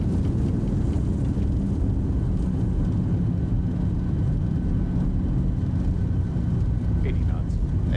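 An airliner just after touchdown roars steadily as its thrust reversers deploy and it decelerates down the runway, a loud constant engine rush lasting throughout while crew callouts are spoken over it.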